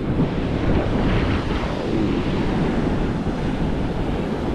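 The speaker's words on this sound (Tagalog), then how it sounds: "laki na ng alon" Continuous roar of large surf washing onto a beach, with wind buffeting the microphone throughout.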